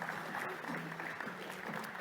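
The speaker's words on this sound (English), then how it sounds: "A warm round of applause." Applause for the chief judge at a sustainability challenge demo day, a steady wash of crowd clapping lasting about two seconds with faint voices mixed in beneath it.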